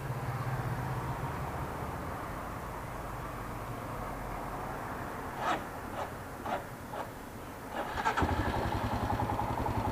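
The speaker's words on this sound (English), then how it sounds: "let's start up the Himalayan" A Royal Enfield Himalayan motorcycle sits idle through a few soft clicks, then its engine cranks and catches near the end, settling into a low running rumble under steady outdoor background noise.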